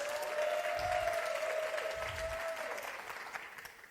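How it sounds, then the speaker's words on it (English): Audience clapping steadily for a few seconds at a youth money event in South Africa, a sustained crowd applause that slowly tapers, with no one speaking. "Can we give her a round of applause?"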